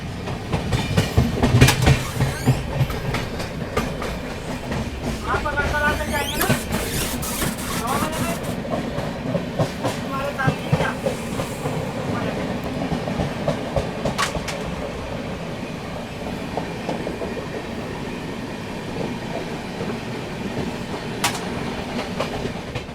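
The Shramjeevi Superfast Express rolls through an Indian railway station near Patna Junction, loud and close, with continuous clickety-clack of wheels over rail joints and rumbling wagons throughout, while people talk over the train noise.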